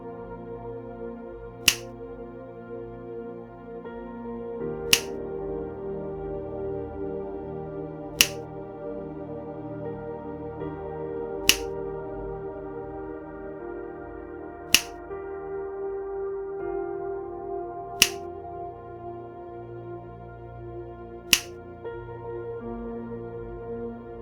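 Finger snaps during a hypnosis session: seven sharp, isolated snaps at an even interval of about three seconds, each one crisp and close, set over a soft sustained musical drone.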